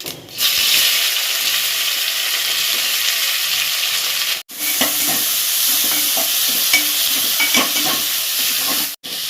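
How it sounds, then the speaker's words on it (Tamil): Cut onions with fennel, bay leaf, cinnamon and star anise frying in oil in a pan: loud, steady hissing sizzle with stirring scrapes throughout, broken by two brief gaps, no talking. "இந்த பிரிஞ்சி இலை, பட்டை, ஒரு ஸ்டாரு எல்லாம் போட்டுட்டு இந்த கட் பண்ண வெங்காயத்தை போட்டுருவோம்"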